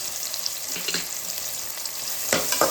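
Ginger and green chilli sizzle and crackle in hot oil in a pan. The frying is close and continuous, with a few scraping stirs partway through.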